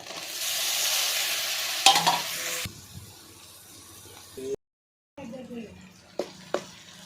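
Onions sautéing in a pot over a wood-fired stove while a country-rooster curry is made, with a broad sizzle and stirring scrapes up close, then a brief silence and sparser clinks and stirs.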